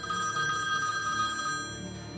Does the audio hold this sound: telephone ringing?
yes